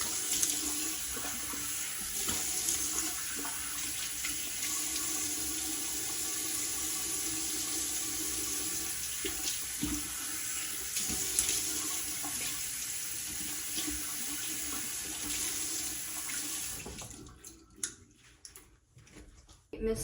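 Water runs steadily from a tap into a sink during face washing, a constant close splashing hiss that stops near the end as the flow is shut off.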